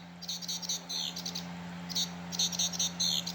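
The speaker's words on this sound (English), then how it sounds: "Reed bunting." A Wild Republic Audubon reed bunting plush plays its recorded call, short high chirping phrases in two bursts separated by a pause, over a steady low electronic hum.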